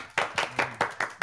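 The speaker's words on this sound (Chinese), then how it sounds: "来来来来，同兄弟们鼓掌" A group of men in a live commercial stream clap together: about six sharp, evenly spaced hand claps, close and loud, with no talk over them.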